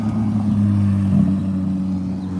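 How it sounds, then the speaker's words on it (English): Sports cars arrive for a car show along Main Street on the historic Annapolis, Maryland waterfront, giving off a loud, steady, close low engine rumble that swells briefly in a mild rev midway through. "here's more cars coming for the car show"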